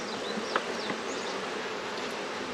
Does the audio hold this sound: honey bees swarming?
yes